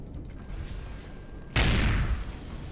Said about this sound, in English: Shouldn't be but a couple of shots here.